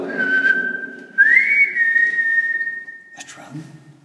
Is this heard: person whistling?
yes